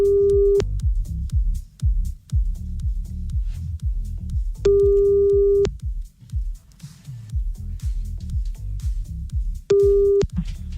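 A telephone call tone heard while dialing a listener for a radio show: steady beeps of about a second each repeat at regular intervals, loud and clear, over a pulsing rhythmic music bed with no talk.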